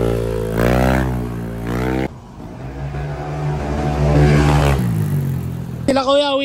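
A Yamaha NMAX V2 scooter fitted with a CVT set and JVT exhaust pipe is revved in bursts, loud and close, with a longer sustained rev in the middle and a voice talking at the start and end.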